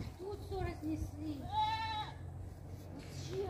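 Goats bleat in a farmyard: one clear, drawn-out bleat stands out among shorter, fainter calls close by, over a low background rumble.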